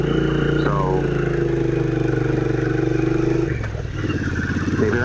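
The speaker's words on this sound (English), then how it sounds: "this is a 900cc motorcycle" A 900cc Triumph Street Cup motorcycle engine runs steadily and loudly up close, a deep harmonic rumble that dips briefly before settling back to a constant drone.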